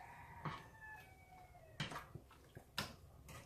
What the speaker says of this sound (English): Did you just hear my rooster?